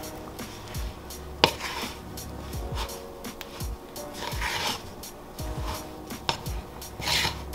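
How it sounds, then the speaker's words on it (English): Spoon working salt into stiff sourdough bread dough in a bowl, making repeated scraping and rubbing strokes with occasional knocks against the bowl, close by and steady, and no talking. "we'll mix that salt in the best we can, and then we're gonna go in with our hands and combine it even more"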